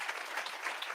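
Audience applause at a tech talk on neural search and generative art, a short dense burst of many hands clapping steadily with no pauses.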